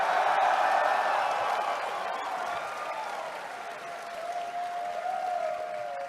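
Studio audience applauding and cheering during a comedy panel show, a dense steady wash of clapping that stays loud throughout with a few faint whoops mixed in.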